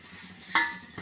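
Roasted sesame and dried copra coconut get stirred into a pan with a metal spoon, one sharp clink and scrape over a faint low sizzle, then a softer tap.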